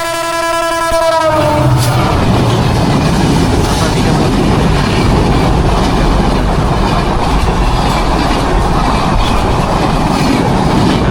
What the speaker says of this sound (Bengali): অবশেষে ট্রেন আসার খবর পাওয়া গেল।